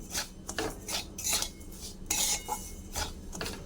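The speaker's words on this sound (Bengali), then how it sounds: "এবার ভালো করে মিক্স করে নেব।" A spoon scrapes and stirs sugar and milk powder in a metal pan with quick, uneven strokes. The rasps and light clinks are close and quiet, and no one speaks.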